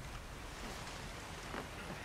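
A waterfall in Shadow of the Tomb Raider rushes as a steady, broadband roar at moderate distance, continuous and without talk.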